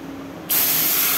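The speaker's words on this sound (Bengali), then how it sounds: "তারপর কিছু গোটা জিরা ফোড়ন দিয়ে দিলাম।" Whole cumin seeds hit hot oil in a pan already holding dried chillies, bay leaf, cinnamon and cardamom while making chana dal, bursting into a loud, steady sizzling hiss about halfway through after a quieter hum.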